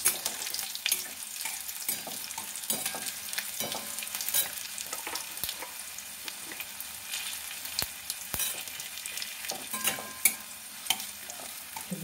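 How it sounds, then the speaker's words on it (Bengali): Panch phoron and dried red chilies fry in hot oil, a faint, steady crackling sizzle with light stirring taps and scrapes spread through, no voices present. "পাঁচফোড়ন দিয়ে দিচ্ছি, একটু নেড়ে নেবো।"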